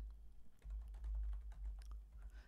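Soft, quick typing on a computer keyboard during spreadsheet work, a few scattered light key clicks over a low, rumbling background, fairly faint and with no speech.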